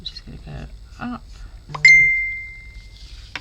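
A mobile phone gives a short bright electronic chime with a clean sustained tone that fades out, sounding during a hands-on floral craft session, with a person talking briefly just before it.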